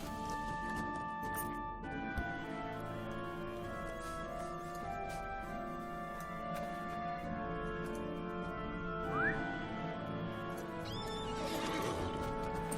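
A horse whinnies in Lord of the Rings Online over a steady layered game soundscape with music and ambient tones, followed by light clattering near the end.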